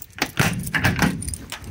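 A bunch of keys jangles up close beside an old Saurer 2DM truck, a brief burst of metallic clinks and rattles with no talking.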